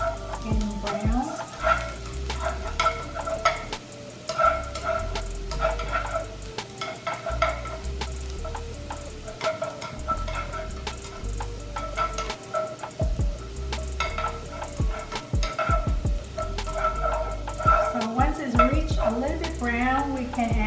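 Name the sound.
shallots frying in a pan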